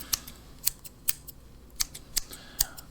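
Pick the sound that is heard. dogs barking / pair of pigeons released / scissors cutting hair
scissors cutting hair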